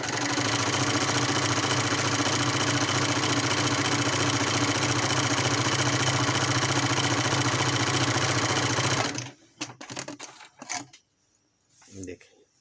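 A Janome or PFAFF embroidery sewing machine stitching zig-zag runs at a loud, steady mechanical whir for about nine seconds, then stops, leaving a few scattered handling clicks and knocks.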